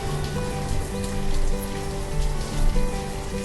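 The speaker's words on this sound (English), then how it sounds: "It's summer, and it's 83 degrees and raining outside" Steady rain falls in the village-building video game Banished during a warm summer shower, a dense continuous hiss of drops on surfaces with no gaps, fairly loud and even throughout.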